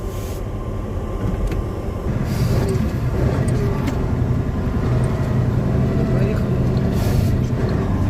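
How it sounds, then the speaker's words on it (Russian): A military Ural truck engine drones steadily while driving, a continuous low rumble with cab noise that holds constant throughout, heard from inside the cab. "Предоставилась возможность не только пассажирам прокатиться на военном Урале, но также и за рулем."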